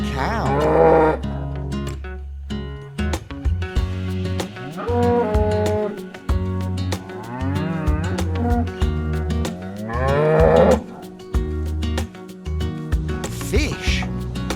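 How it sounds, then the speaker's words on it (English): A cow lets out a series of loud, drawn-out moos close by, each long low call followed by a brief gap, repeating across the whole stretch. "Cow."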